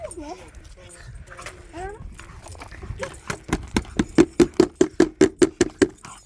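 Playful dog sounds with whimpers and yips early on, followed by a rapid, regular series of clopping or panting beats growing louder; a person calls out in between.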